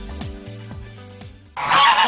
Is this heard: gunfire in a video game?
no